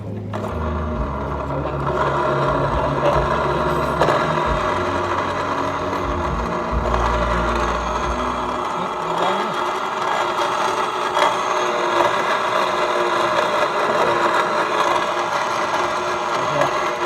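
Rear differential gears of a car, worn and noisy, whining and grinding continuously while the wheel is turned, with a steady mechanical hum and ratcheting texture throughout, close and fairly loud.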